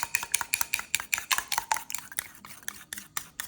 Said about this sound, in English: so you just mix the honey and the sauce together.